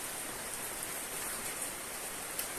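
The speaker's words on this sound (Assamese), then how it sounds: "মানে বঢ়িয়া বৰষুণ দিছে" Steady rain falls in a soft, even hiss, with faint scattered drops and no voices.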